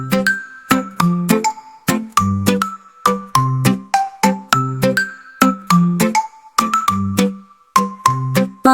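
A bright, bell-like tune of ting-ting chimes rings out in a quick, regular rhythm, loud and clear with no voices over it.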